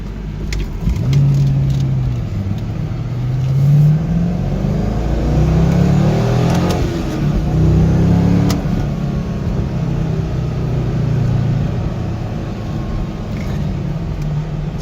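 A stock car accelerates from inside the cabin, its engine note rising and falling through several pulls over a long, steady stretch of road noise.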